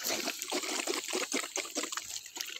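Water trickling through a newly switched-on drip irrigation system in a farm field, a steady close dribble with uneven splashy bursts and no talking.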